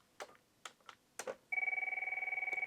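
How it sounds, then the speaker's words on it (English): Cisco IP phone playing a custom ringtone styled after an AT&T Merlin: a few short clicks and taps, then a steady warbling electronic ring with rapid pulsing tones that continues to the end, close and clear. "create some custom ringtones to make them sound like AT&T Merlins"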